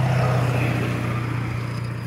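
A loud truck passes outside a house in a small town, its heavy low engine rumble holding steady and strong throughout before easing slightly toward the end, with no talking over it.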